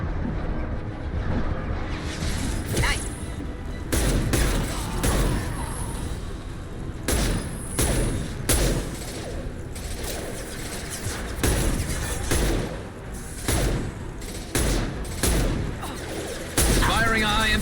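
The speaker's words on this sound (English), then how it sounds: "Firing a high-impact shot." Gunfire in Mass Effect 2 combat, repeated loud sharp shots and bursts at an irregular rhythm with booms mixed in, close and punchy throughout.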